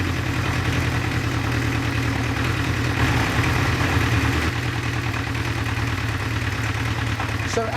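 A motorcycle engine idles steadily while its carburettors are being balanced, a close, continuous low throb with an even mechanical rhythm and no clear revving, running loud and constant throughout.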